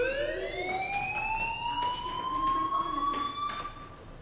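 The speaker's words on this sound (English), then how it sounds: "Hey, do you hear that fire alarm? That means you should be outside." A fire alarm rings in the video game Life is Strange, a loud, steady electronic tone with a slowly rising pitch sounding continuously on its own.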